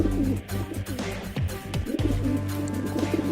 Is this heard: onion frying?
no